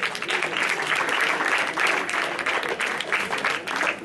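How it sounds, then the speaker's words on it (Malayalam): A church convention audience at Kumbanad claps together for the parents: dense, steady applause from many hands that fills the whole stretch at an even, lively level, with no voices standing out. "എല്ലാവരും ഒന്ന് കൈയടിച്ചേ."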